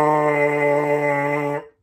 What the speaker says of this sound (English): Blow through your mouthpiece right now.